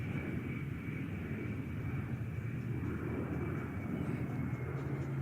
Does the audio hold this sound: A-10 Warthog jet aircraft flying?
yes